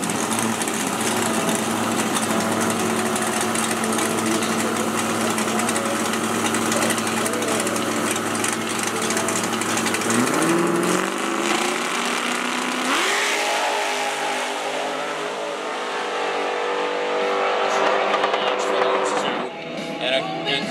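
Drag race cars including an 84 Camaro running at Lancaster Dragway, a loud continuous engine roar with rising revs and gear-change sweeps, heard at a distance under an announcer's voice before fading out at the end.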